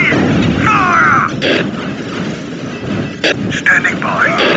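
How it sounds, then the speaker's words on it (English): Cannons fire in the Warhammer 40,000 Dawn of War Winter Assault strategy game, with heavy booming blasts and rumbling barrages mixed with shouted unit voices. "All cannons are ready! Fire!"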